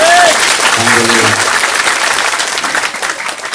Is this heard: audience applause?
yes